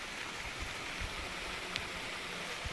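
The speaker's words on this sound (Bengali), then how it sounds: "হঠাৎ বৃষ্টি এসে গেল জোরে" Sudden heavy rain pouring down outdoors during evening cooking, a steady dense hiss of drops with low rumbling spatter, close and continuous, with no voices.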